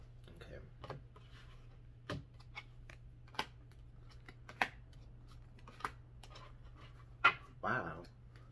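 Tarot cards are shuffled by hand in a quiet room, giving faint soft riffles and a series of sharp taps and snaps spread across the stretch, with a low steady hum beneath.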